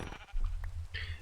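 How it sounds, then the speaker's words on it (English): A sheep bleats once in a Minecraft-style multiplayer game, a short game sound effect over a continuous low hum of background noise. "you just butchered a poor little sheep"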